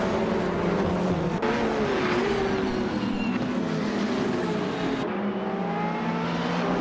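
Race cars roar around the Algarve circuit in a racing video game, a 2018 Ferrari 488 GTE among the GTE field, engines droning steadily and loud with shifting pitch as gears change, continuous throughout with no voices.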